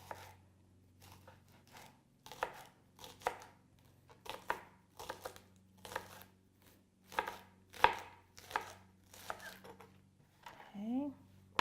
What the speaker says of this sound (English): we're going to cut the white and part of the light green to saute with the ham